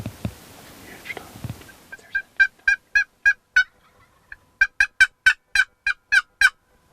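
Wild turkey gobbling during a turkey hunt: two bursts of repeated rapid gobble notes, the first after soft rustling, the second a longer, louder run of about eight clustered calls, fairly close and clear over a quiet outdoor background.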